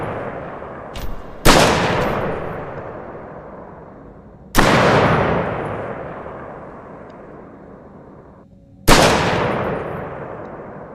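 Three heavy, booming turret shots in the space survival video game Hiraeth, each a sharp loud blast with a long ringing decay, spaced a few seconds apart, with a faint smaller click before the first; no talking.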